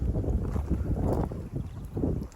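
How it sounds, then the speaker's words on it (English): Gusty wind buffets the microphone beside a lake on a carp fishing trip, a steady low rumble with surging puffs throughout and no talking. "Sorry if it's a bit windy."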